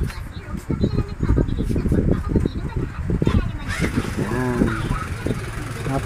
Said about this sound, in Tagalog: at ito ang tunog ng kanyang makina.